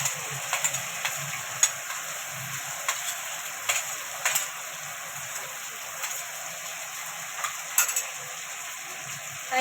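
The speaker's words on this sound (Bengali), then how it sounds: "এবার আমি এই যে টমেটো আর কাঁচা লঙ্কাটা দিয়ে দিচ্ছি।" Tomato and green chilli drop into spice paste frying in oil for a Bengali chicken pota kosha, giving a steady soft sizzle with scattered faint clicks and pops throughout.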